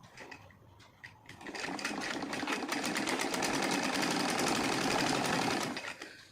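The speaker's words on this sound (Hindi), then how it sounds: "अब इसके ऊपर से मैं एक सिलाई और लगाऊंगी, इसे इस तरीके से दबाने के लिए।" Sewing machine stitching a topstitch seam on heavy silk saree fabric starts after a brief pause, then runs in a fast, steady mechanical rattle at close range.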